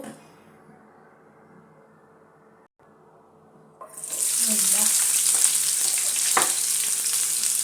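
Chopped onions hit hot oil in a frying pan and burst into a loud, steady sizzle that starts abruptly partway through after a quiet lead-in, with brief spatters and clinks over the frying.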